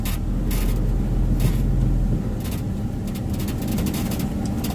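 A car rolls slowly into a parking spot, with a continuous low road and engine rumble broken by brief clunks and rustles from inside the cabin.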